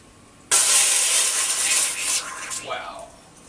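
Freshly boiled water in a kettle releases a sudden loud, steady hiss of steam close by that tapers off after a couple of seconds.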